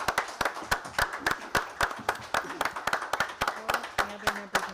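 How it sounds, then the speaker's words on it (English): Rhythmic, fairly sparse clapping from a small audience at a town board meeting honoring first responders, individual claps distinct and even, with faint voices underneath. "Give yourself a round of applause,"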